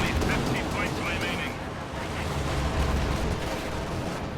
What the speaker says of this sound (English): The ISU-152 shoots it down, though.